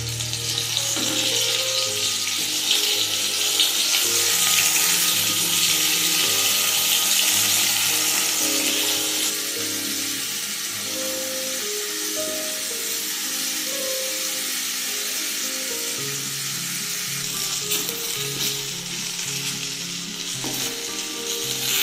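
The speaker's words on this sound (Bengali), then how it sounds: "এবার বেগুনগুলো ভেজে নেব" Brinjal pieces sizzle in white oil in a kadai, making a loud, continuous frying hiss close by for over twenty seconds, with occasional stirring and scraping sounds under it.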